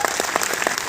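A seated audience at an indoor talk breaks into a brief round of applause, a quick burst of close overlapping claps.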